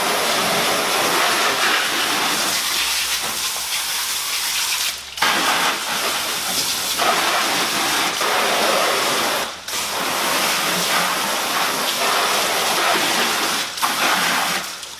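Water rinses all-purpose cleaner off a Ford Focus ST wheel on a rainy day, a close, steady hissing spray with a few brief pauses as the stream is moved.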